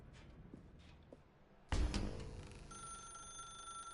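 A telephone rings with a sustained electronic tone in the video game The Stanley Parable Ultra Deluxe. It begins abruptly after a quiet stretch with a loud onset and holds steadily to the end.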